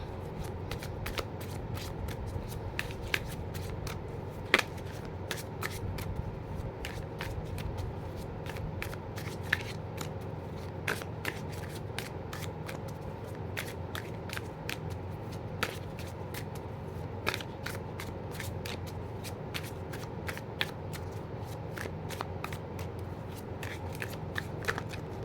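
A deck of cards being shuffled repeatedly in a tarot-style reading, crisp riffling snaps and flutters recurring throughout over a quiet background, close and clear.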